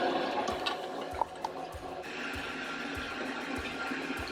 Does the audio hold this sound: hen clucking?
no